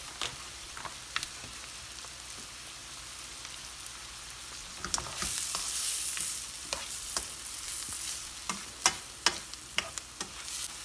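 Onions fry and brown in a pan with a steady, soft sizzle, broken by sharper crackles and spits that grow more frequent toward the end.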